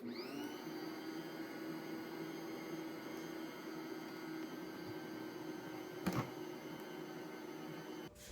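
A stand mixer kneads bread dough for crescent rolls, a steady motor whir with a constant tonal hum, running alone with a brief knock near the end before it stops.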